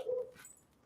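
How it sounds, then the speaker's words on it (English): A dog whimpers briefly in the rain, one short faint whine, then quiet. "A dog trying to go out there in the rain."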